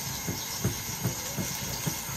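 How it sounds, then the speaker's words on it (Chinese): A lid rattles on a pot of braised pork simmering in beer and water, a soft rhythmic clatter of light taps roughly every half second over a steady boiling hiss, fairly faint. "嗯，你锅盖跳舞嘞？"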